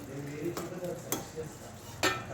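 Ridge gourd curry cooking down in oil in a pan: a soft steady sizzle with a few light scraping stirs and utensil taps, fairly quiet and close.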